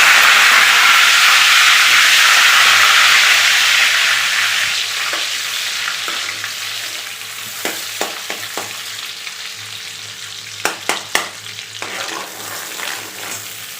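Homemade butter melts into hot oil in an iron kadai while tempering for bazaar-style pav bhaji. A loud, bright sizzle flares up at first, then eases into a softer hiss broken by occasional sharp crackles and pops.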